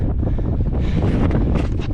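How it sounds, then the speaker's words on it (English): Strong gusting wind on a snowy mountain during a snowshoe climb buffets the microphone with loud, continuous roaring, broadband rumble that swells and surges throughout, with no speech. "Really windy though."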